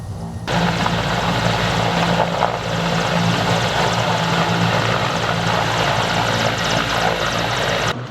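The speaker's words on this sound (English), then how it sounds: "The noise of this helicopter was disturbing my audio" A helicopter's rotor thunders loudly and steadily nearby, a constant heavy chopping roar that fills the whole stretch without any speech.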